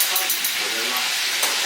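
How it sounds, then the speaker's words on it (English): Fries for a Flaming Hot Cheetos chicken sandwich frying in hot oil, a steady, close, bright crackling sizzle with scattered pops. "you want to make sure that there's no fries sticking to each other because you want them all to cook at the same damn time"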